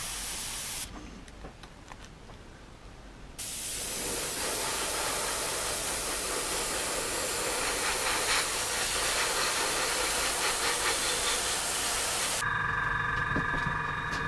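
A spray gun lays primer onto plastic parts of a Tamiya 1/48 de Havilland Mosquito B Mk.IV model kit: loud, close, continuous hissing in two long bursts, with no talk.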